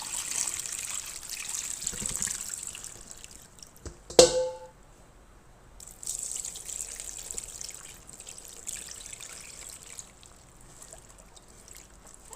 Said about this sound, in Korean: 다시 2리터 부어주겠습니다